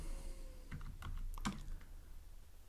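Quiet, close clicking of keys as code is typed on a computer keyboard, with a few irregular keystrokes clustered in the middle over a low background hum.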